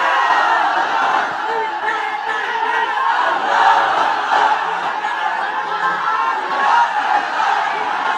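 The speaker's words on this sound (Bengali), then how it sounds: "তাকবীর দেন তো একজন আওয়াজ করে।" A large religious gathering at an Islamic sermon loudly chants takbir together, a dense, sustained roar of many voices filling the whole stretch without pause.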